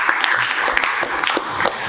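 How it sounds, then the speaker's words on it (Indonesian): A short burst of classroom applause for a student, many hands clapping together in a dense, steady patter that lasts the full two seconds. "Kita berikan aplaus untuk Mas Rasya."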